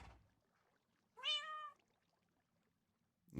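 A cat gives a single clear meow lasting about half a second in an otherwise quiet indoor space, with a faint click at the start and end.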